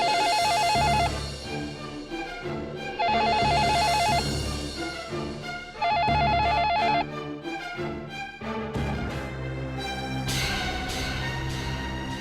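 A telephone rings in three repeated electronic bursts, loud and close, followed by a stretch of other tonal sounds with no talking.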